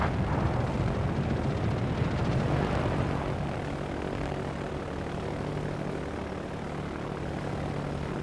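Carrier planes in World of Warships, launched from the German aircraft carrier Rhein, drone with loud, steady propeller engines, a dense rumbling roar that holds level for the whole stretch with no voices.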